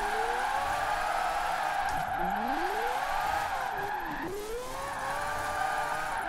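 A Mazda drift car in Forza Horizon 4 holds a long, loud, steady tire squeal over a revving engine whose pitch swings up and down as the car slides, with no talking.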